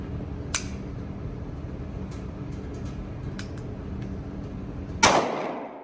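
A single shot from an Altor Corp single-shot 9mm pistol: one sharp, loud crack near the end, after a faint earlier snap over steady low background noise.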